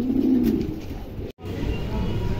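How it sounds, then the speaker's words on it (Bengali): Pigeons cooing at a bird seller's display of fancy pigeons including German Cropper pairs, soft repeated low coos continuous and fairly close, with a brief silent gap midway. "দেখেন চমৎকার কবুতর।"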